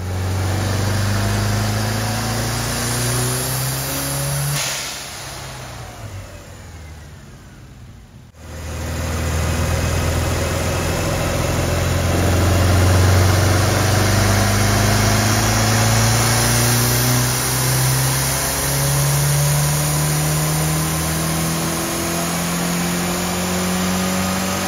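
A drive-by-wire resto-mod classic Mini engine running on a dyno, with red-hot exhaust headers, droning loudly through steady rising pulls, easing off briefly in the middle before winding up again to a sustained high-rev roar.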